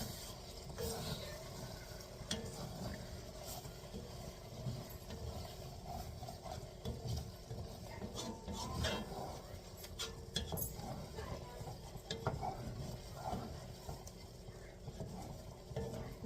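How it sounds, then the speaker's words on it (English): Cream of chicken and rice cooking in an uncovered pot gets stirred with soft scraping and clinking, set against a steady low simmer, with a voice murmuring faintly in the background. "Stirring it frequently."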